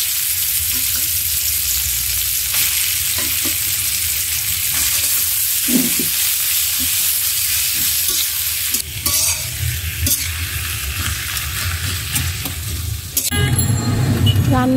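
Boiled amaranth greens with chili, salt and onion hit a pan of fried garlic, giving a loud, steady sizzle with stirring scrapes throughout, nobody talking.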